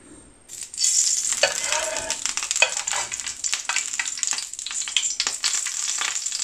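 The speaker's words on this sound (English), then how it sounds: "First I'm going to add 1 chef spoon, which is 3 tablespoon of cooking oil." Three tablespoons of cooking oil hit a hot pan for chana masala and burst into loud, bright sizzling after a brief quiet moment, crackling and spitting continuously up close.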